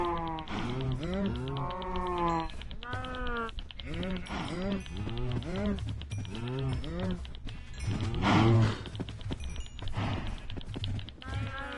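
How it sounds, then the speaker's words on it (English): Many Minecraft cows moo in overlapping, repeated calls from a crowded pen, some near and some farther off, with a louder burst of lowing near the end. "Wow, there's way more cows in there than I thought."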